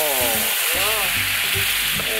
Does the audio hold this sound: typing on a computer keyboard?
no